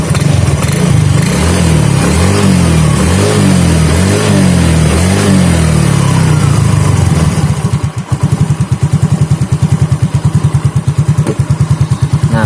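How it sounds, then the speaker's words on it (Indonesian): Yamaha Fino / Mio J scooter engine, close and loud, revving in repeated throttle blips that swell and drop, then settling into a steady thumping idle, with no voices. "Dan coba kita gas itu langsung respon ya."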